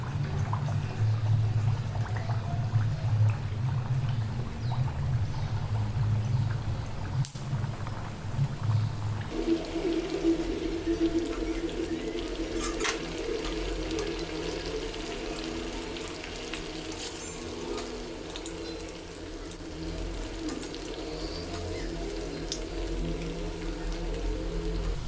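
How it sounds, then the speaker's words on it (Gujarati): Puris frying one by one in oil over low heat: a steady, close hiss and bubbling runs through the whole stretch, dipping and changing character partway as more dough goes into the pan. "હવે આપણે ધીમા તાપે તેલ મૂકીને તેને તળી લેશું"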